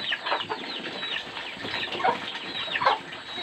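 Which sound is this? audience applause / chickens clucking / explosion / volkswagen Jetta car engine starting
chickens clucking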